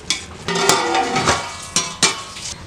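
A spoon scrapes through half-cooked fish biryani rice in a pot, making several loud, close scraping and knocking strokes in an uneven rhythm, with a light sizzle between them.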